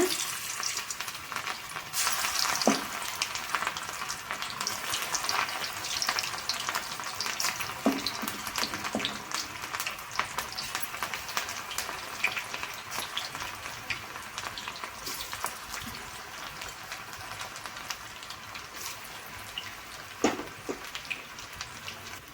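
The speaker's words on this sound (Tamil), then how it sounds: "எண்ணெய் பார்த்திங்கன்னா நல்லா சூடாயிருச்சு இப்போ நம்ம காலிஃப்ளவர் போட்டு நம்ம பொறிச்சு எடுத்துக்கலாம்" Cauliflower pieces deep-frying one by one in hot oil, a dense, crackling sizzle that runs steadily throughout, heard up close with occasional light clinks and no speech.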